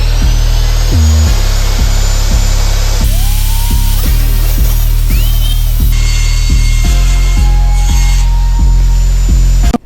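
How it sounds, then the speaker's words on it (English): A saw cuts through plywood for a sewer-road diorama base in loud, close, evenly timed strokes about half a second apart, with a rasping scrape on each pass. "Here I'm just cutting up some plywood the size as a base for the road."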